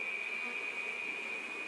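Honey bees swarm around an opened horizontal hive, a steady close buzzing hum that holds without break and without any talk.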